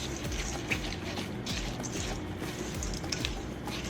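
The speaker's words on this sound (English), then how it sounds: "Give it a stir." A spoon stirs milk-soaked crumbled chips in a bowl, giving a continuous wet squishing and sloshing sound for several seconds, close and moderately quiet with no talk.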